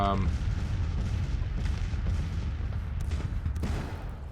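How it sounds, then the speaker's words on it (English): Civil War cannon artillery fire rumbles in a large battle in Grand Tactician Civil War, with continuous deep booms and a couple of sharper blasts near the end over a constant battlefield din. "There's cannonballs flying over all the time. There's a lot of cannons coming."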